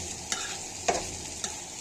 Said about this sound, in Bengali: তো দেখো এটা হতে থাকুক, এটা একদম বেরেস্তা করে ফেলবো এখন এটাকে আমি।